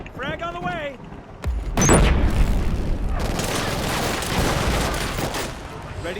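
A frag grenade goes off in the shooter game Killzone: Shadow Fall, a heavy booming blast that rolls into a sustained roar of gunfire and rumbling, preceded by a brief synthetic chirping.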